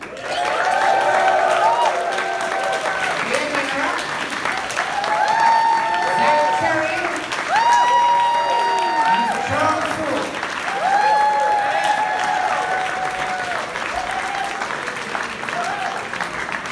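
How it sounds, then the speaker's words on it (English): Audience applause at a New York Comic Con talk-show panel, steady crowd clapping running throughout with cheering, whooping voices and scattered shouts mixed in. "Let's have a big round of applause so you don't walk into complete silence."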